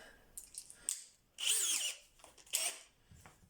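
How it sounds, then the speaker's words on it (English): Power drill bores out a screw hole in wood in two short, whining bursts, with quieter handling clicks and knocks around them. "So I'm just going to re-drill that hole"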